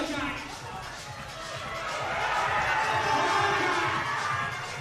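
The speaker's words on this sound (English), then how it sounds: "Crowd really lifts for Jack." A crowd at the finals of a British bouldering championship swells into a steady roar of cheering that builds gradually and stays loud throughout, with indistinct voices mixed in.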